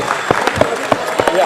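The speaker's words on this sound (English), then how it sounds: "A big round of applause for the children who are here" Applause for children at an India IPO 2019 celebration ceremony, a loud, close burst of clapping with a few sharp individual claps standing out above the crowd's patter.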